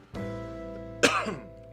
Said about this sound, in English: I apologize for coughing in your ear.